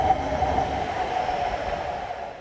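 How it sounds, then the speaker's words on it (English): A Shinkansen bullet train pulling into Aomori Station, a steady loud rumbling roar with a faint high squeal riding over it, close by and continuous with no voices. "Our Shinkansen arriving at Aomori Station, bound for Uyeno Station in Tokyo."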